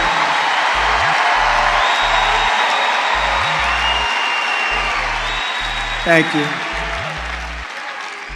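A large rally crowd in Georgia cheers and applauds steadily and loudly throughout, with a pulsing low music beat underneath and someone briefly speaking over the noise.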